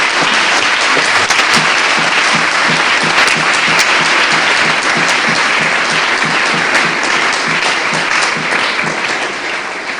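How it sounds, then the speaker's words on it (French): A congregation at a crusade gathering applauds an old man, loud continuous clapping with a faint rhythmic pulse running through it, easing slightly toward the end. "Clap for this old man."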